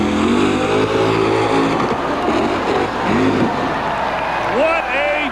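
A Ford monster truck's engine at an arena show in Rockford, Illinois revs and pops loudly with a crowd roaring and an announcer talking over it.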